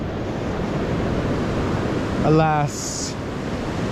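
Continuous roar of ocean surf on a beach on the Olympic Peninsula, broad and steady, with wind noise and a short spoken word partway through.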